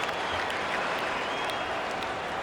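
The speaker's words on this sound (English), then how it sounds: "Please give a big round of applause for your dance team." An arena crowd in the NBA 2K26 basketball video game applauds during a timeout, a dense, steady wash of clapping at moderate loudness with no break.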